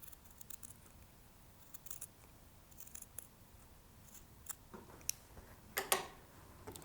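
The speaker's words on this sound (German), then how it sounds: "schneide ich ein bisschen mehr weg." Scissors snip away the seam allowance of a fraying fabric at a sewing lining, producing a series of quiet, crisp cuts that grow more frequent and sharper toward the end.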